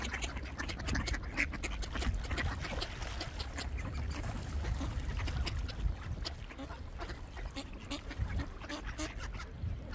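A flock of ducks quacking continuously amid busy outdoor noise, faint and somewhat distant.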